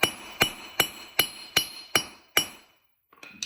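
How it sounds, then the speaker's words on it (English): A hammer strikes a greasy duplex nail seven times in an even, clinking metallic rhythm, each blow ringing briefly before a short quiet stretch and faint handling sounds. "I just hammer this a little"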